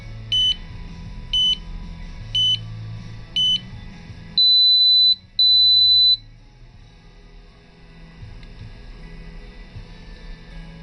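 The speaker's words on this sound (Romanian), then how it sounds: "Începe să bipe." An electronic oven controller with a TM1637 display beeps four times at an even pace, then gives two longer, louder tones, over a faint humming background.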